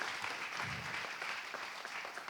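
An audience applauds an award recipient named Michel at an inbound marketing prize ceremony, giving steady, dense clapping throughout.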